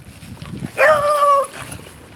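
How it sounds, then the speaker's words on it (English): A single drawn-out, high-pitched dog yelp rises and holds for just under a second on a grassy spot, fairly close and standing alone against quiet background rumble. "There we go, puppy just chilling on the grass."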